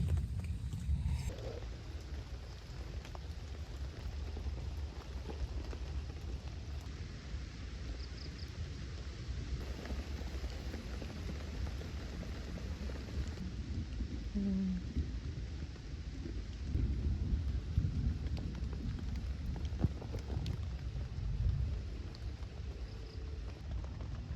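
Steady rain falls through a campsite during a storm, a dense continuous hiss with low rumbles of thunder rolling underneath, fairly loud and close, with no talking.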